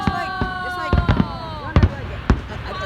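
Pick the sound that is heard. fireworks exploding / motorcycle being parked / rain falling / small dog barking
fireworks exploding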